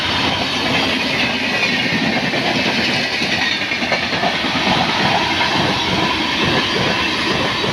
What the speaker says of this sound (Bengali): ফাইনালি আধা ঘন্টা 40 মিনিট খাড়া করে ট্রেন আইছে